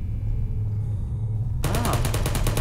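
A Portal turret opens fire on the player, a rapid, evenly spaced burst of machine-gun shots that starts abruptly after a low rumbling hum and continues to the end.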